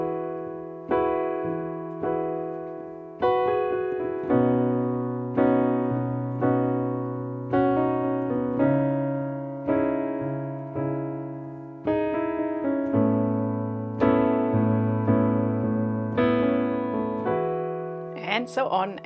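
Solo piano playing sustained chords with melodic fill notes running over them, a steady series of struck chords with a clear, close, moderately loud tone and no talking.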